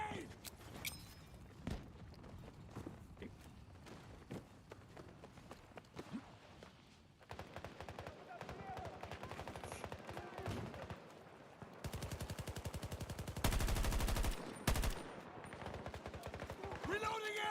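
Video game gunfire crackles throughout, mixing single shots with rapid automatic bursts and footsteps, fairly quiet overall with a denser, louder stretch of rapid fire near the end.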